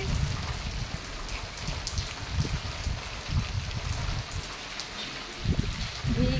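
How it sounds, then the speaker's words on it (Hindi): Steady rain falls and patters on nearby surfaces, a continuous hiss with heavier drips and splashes scattered through it, close and fairly loud. "तो देखते हैं बारिश कब तक"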